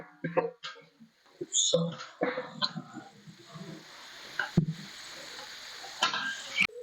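Ginger, garlic and tomatoes sizzle and fry in a pan at close range, with intermittent stirring clatter and bursts of cooking noise alongside occasional voices.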